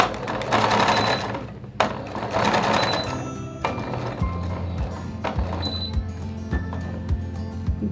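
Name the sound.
sewing machine stitching kameez fabric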